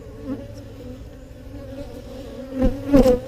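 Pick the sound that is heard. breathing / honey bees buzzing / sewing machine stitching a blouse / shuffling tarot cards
honey bees buzzing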